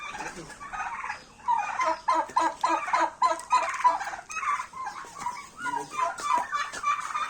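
A flock of turkeys clucks and gobbles in rapid, overlapping bursts at a poultry farm, a dense rhythmic chatter of many birds close by.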